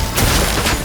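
Brief burst of gunfire in a Genshin Impact game cutscene, two loud close shots a fraction of a second apart over a noisy background.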